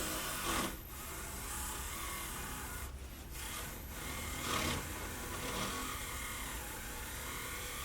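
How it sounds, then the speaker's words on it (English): Slot car tyres being sanded quickly by hand, a steady dry rubbing rasp that runs continuously with slight surges and pauses in stroke. "quickly sand the tyres just a little bit and see if we can get a little bit more grip"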